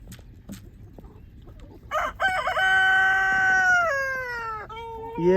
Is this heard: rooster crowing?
yes